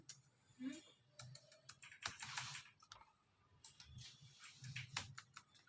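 Rapid typing on a computer keyboard, a dense run of close, crisp key clicks in uneven bursts, with a quiet voice now and then underneath.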